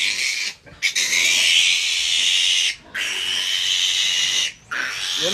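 Baby piglets squeal and grunt loudly close by in long, shrill cries, broken only by a few short pauses; no voices are heard.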